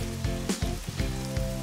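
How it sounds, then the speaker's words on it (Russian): Steady hiss of rain pattering on a surface, with low humming tones pulsing underneath in a regular rhythm. "О нет, снова дождь."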